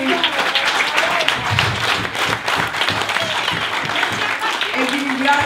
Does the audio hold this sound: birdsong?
no